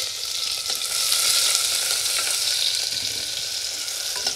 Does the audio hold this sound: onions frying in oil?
yes